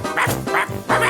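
A dog gives three short, close, yelping barks in quick succession, with brief gaps between them.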